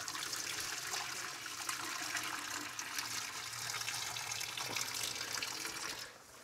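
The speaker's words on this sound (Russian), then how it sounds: "Я сливаю кипяток." Boiling water from a pot of cooked squid pours steadily into a sink, a continuous splashing rush that holds for about six seconds before tapering off.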